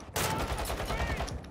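Sustained gunfire fills a shooter video game firefight, with loud, continuous bursts that sound like rapid rifle or machine-gun fire and a faint voice barely audible beneath.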